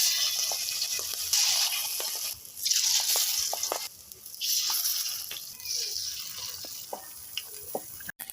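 Pakora batter frying in hot oil, a steady bright sizzle with small pops and clinks, briefly dipping twice before resuming, with no talking.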